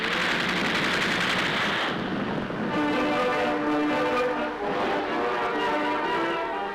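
Gunfire in a 1969 North Vietnamese propaganda film, a rapid rattling burst of shots followed by a sustained tonal blare like a horn or siren, dense and loud throughout.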